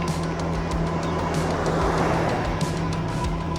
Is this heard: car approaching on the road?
yes